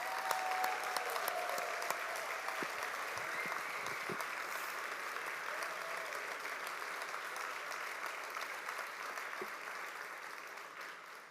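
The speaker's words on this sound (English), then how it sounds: "get another round of applause" Steady, sustained applause from a large crowd fills a hall at an awards celebration, holding even and full throughout with no break.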